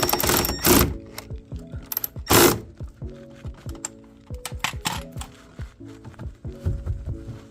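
A ratchet tightens a 6mm Allen head bolt on an upgraded jack pad under a BMW E90. Close, crisp ratcheting clicks come in uneven runs, with a few louder knocks early on.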